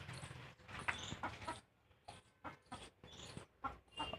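Pure Gavrani desi hens give short, repeated clucks and squawks close by. The calls come in quick bursts with brief gaps between them, and the whole scene is fairly quiet, with no talking.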